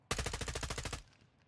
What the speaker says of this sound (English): Shots over here, Flip.